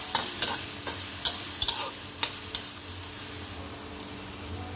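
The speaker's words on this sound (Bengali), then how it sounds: "পেঁয়াজটা ভেজে নেব।" Onion frying in a pan for an egg bhuna, a steady close sizzle broken by sharp scraping clicks of a spatula stirring, with no voices.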